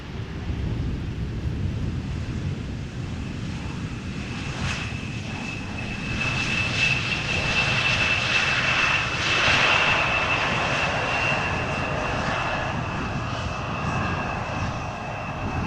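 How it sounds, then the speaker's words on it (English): An Embraer 175 jet airliner arrives at Amsterdam Schiphol Airport with a loud, sustained engine roar and a steady whine, swelling and then holding, with some wind noise and no talk. "Embraer 175 arriving from Dublin,"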